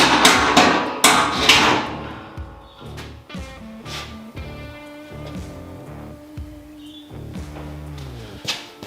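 Metallic clanks and clicks come from a two-post clear floor car hoist as its carriage rises and its locks catch, in a series of irregular, close knocks that ring briefly in a workshop.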